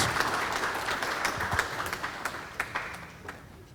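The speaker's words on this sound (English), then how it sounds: "A round of applause for Professor J. Srinivas" Steady applause from the audience at a World Environment Day panel discussion, many hands clapping at once with a few sharper claps standing out near the front.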